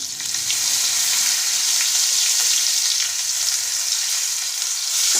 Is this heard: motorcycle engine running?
no